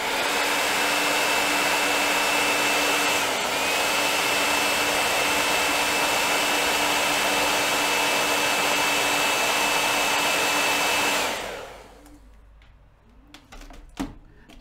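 A heat gun blows steadily and loudly for about eleven seconds while drying watercolor paint on autumn leaves, with a constant whine over broad hiss, then shuts off, leaving quiet handling noises.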